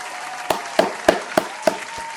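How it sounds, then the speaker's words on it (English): Five or six separate, evenly spaced claps ring out against a quiet background at moderate loudness, a slow deliberate round of applause from a single person. "Round of applause for even taking it apart, bro."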